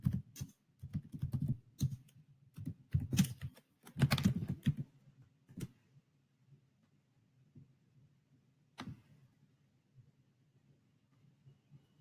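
Quick, close keyboard typing in dense clusters for the first five seconds, then a few scattered key taps over a low steady background hum.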